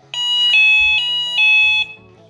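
A Delkim fishing bite alarm gives a series of about four loud, high electronic beeps in quick succession, with a low buzzing vibration pulse underneath.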